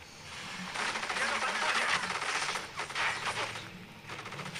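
Rapid automatic gunfire rattles in bursts in the shooter game Black, played on a PS2 emulator, during a weapons-factory sabotage stage. The fire is steady and mid-distance, with short gaps.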